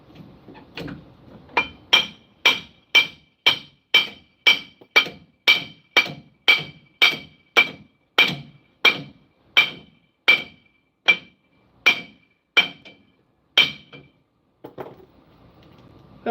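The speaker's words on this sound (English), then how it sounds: "Where's my hammer?" A hammer strikes metal parts during DIY suspension work on a Toyota PreRunner truck, about twenty sharp, evenly spaced ringing blows close to the microphone, a few slower hits near the end, with no talking.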